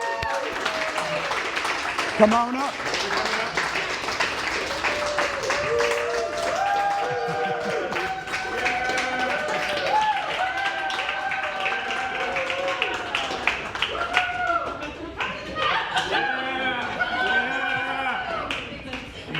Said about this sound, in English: Let's all get up and give these guys a round of applause.